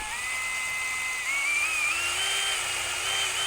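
A very small drill bit spins steadily as it is run back and forth through a small hinge held in a bench vise, a continuous high-pitched whine whose pitch rises partway through, close and alone with no talk.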